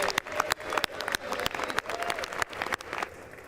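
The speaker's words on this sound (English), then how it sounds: "People are clapping just because the speech is over." Scattered clapping in the House chamber during a Speaker vote, distinct individual hand claps over a murmuring crowd, moderately loud and uneven.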